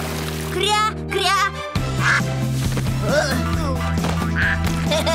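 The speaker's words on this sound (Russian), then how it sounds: "Кря-кря!" A cartoon duck gives a quick pair of quacks over bright background music and splashing in a children's animated series, with a voice nearby.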